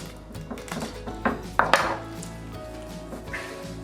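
A knife cuts through smoked river catfish on a board, giving a handful of irregular chops and taps with one louder crunching stroke in the middle, close and otherwise quiet.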